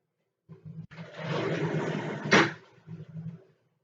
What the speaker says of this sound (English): So I'm gonna turn my fan on.